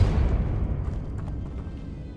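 A Depulso spell goes off in Hogwarts Legacy, a heavy booming blast at the start that rolls off into a fading rumble with no talking.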